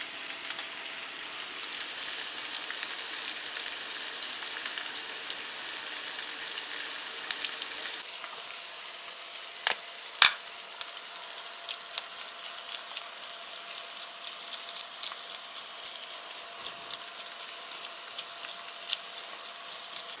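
Tomatoes fry in a pan, giving a steady, even sizzle with dense crackling throughout, close and continuous, with one sharp clink midway.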